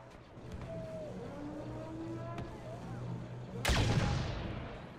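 A heavy blaster cannon fires from an MTT in the Star Wars Battlefront 2 multiplayer beta: a single loud, sudden blast bursts over steady game ambience and fades over about a second.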